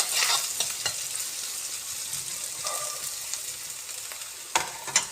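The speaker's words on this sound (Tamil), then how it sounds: "இப்போ வெங்காயம் பாருங்கள் பாதி வதங்கிடுச்சு." Onions sauté in a pan, a soft, steady frying hiss with a few sharper crackles and stirring clicks near the end.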